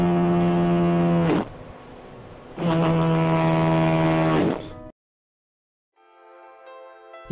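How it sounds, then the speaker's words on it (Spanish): Two long, deep, moaning blasts from the compressed-air foghorns of the Fisterra lighthouse, each a few seconds and loud and close, separated by a pause, followed by a fainter lower tone after silence. "escuchemos cómo suenan sus dos bocinas de aire comprimido"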